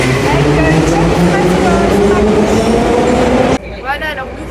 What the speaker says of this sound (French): alors nous voici dans le métro. Ouais. Et c'est bien bruyant.